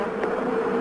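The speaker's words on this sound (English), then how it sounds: "500 bees or so have already come out." A swarm of Africanized killer bees buzzes in a dense, continuous drone close around the listener, steady and moderately loud for under a second.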